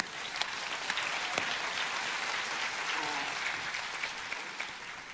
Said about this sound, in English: You can give them an applause.